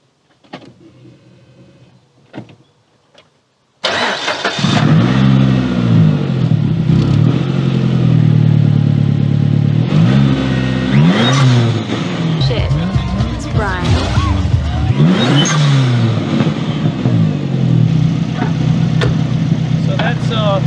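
A car engine on its first start after work, heard after a few faint clicks and knocks: it catches suddenly and then revs loudly in repeated rising and falling sweeps, close and dominating.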